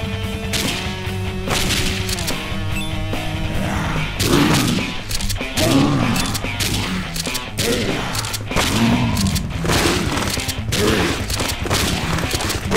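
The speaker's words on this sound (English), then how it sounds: "No, throw a hand grenade. Right, this will be much powerful." A hand grenade explosion in the video game Dead Pixels comes amid a rapid barrage of loud game gunfire and heavy thuds, with background music running throughout.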